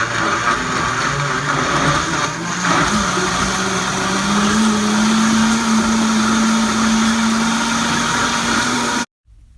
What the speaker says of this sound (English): Let's go ahead and start the blender.